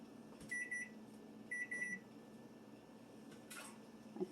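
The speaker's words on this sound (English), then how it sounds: "Timer's done." Kitchen oven timer signalling that bacon is done: short bursts of high electronic beeps, two quick double-beep groups a second apart, fairly faint over a quiet room hum, with no voices.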